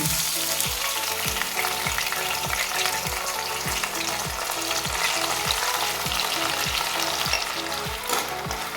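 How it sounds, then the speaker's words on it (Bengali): Soaked atap rice fries in hot ghee and mustard oil, making a loud, continuous close sizzle with regular, evenly spaced scraping strokes as it is stirred, and no talk. "চালটা আমি একটু ভালো করে ভাজা ভাজা করে নেবো"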